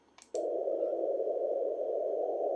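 A 400 Hz CW sidetone from an Elecraft K4 radio on 17 meters sounds as a steady, clean continuous beep, preceded by two brief clicks, holding loud and unbroken to the end.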